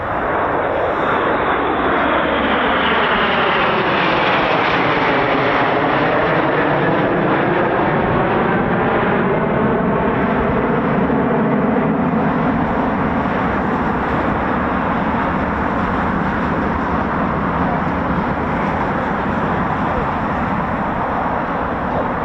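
Red Arrows jet aircraft performing their break over RAF Waddington, a loud continuous engine roar with sweeping pitch shifts as the jets pass and peel away, sustained throughout over faint crowd and voice.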